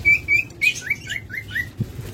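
Small caged pet birds chirp rapidly in a series of bright, repeated tweets, close and clear, over a low background rumble.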